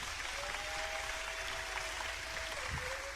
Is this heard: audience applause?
yes